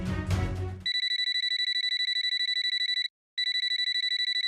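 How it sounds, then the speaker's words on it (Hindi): A telephone rings in a fast, continuous electronic trill, loud and close, with a brief pause before it resumes; noisy rustling precedes it. "किसका फोन है?"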